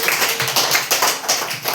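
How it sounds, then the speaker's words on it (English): A classroom of young students applauds a classmate with a short burst of quick, irregular clapping from many hands, close and fairly loud. "Clap for Vidyumna, everybody"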